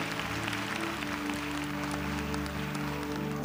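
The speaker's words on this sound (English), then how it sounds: "just clap your hands to the Lord" A church congregation claps their hands together in worship, a dense, continuous patter of applause with steady sustained music underneath and no talking.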